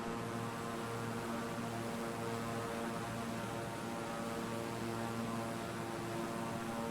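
A propeller aircraft's engine drones steadily in Microsoft Flight Simulator 2020 over the Los Angeles skyline, a continuous mid-loud hum with layered tonal harmonics and no pauses.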